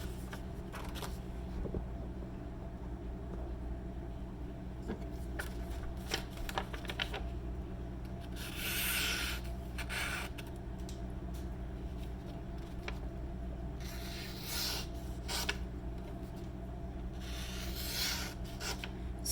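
Freshly sharpened LC200N steel knife slicing paper, repeated rasping swishes in bursts over a low steady background hum; close and quiet, no voices.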